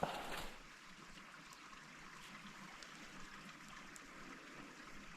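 Mountain creek water flowing steadily over rocks, a soft continuous trickle heard from nearby after a brief louder rustle at the start, with no voices.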